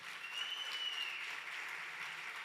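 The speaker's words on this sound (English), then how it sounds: "I think that's beautiful and worthy of a round of applause." A church congregation at a Sunday service breaks into steady, sustained applause, heard from a distance and fairly faint, with no voices over it.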